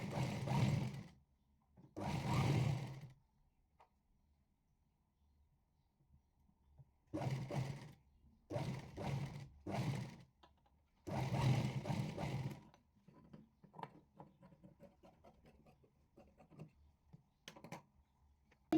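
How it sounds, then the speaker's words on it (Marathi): A sewing machine stitches a blouse piece in several loud, close bursts of rapid whirring, each lasting one to two seconds with pauses between, followed by lighter clicks and handling noises. "इथे इथे मी शिलाई मारून दाखवते आता"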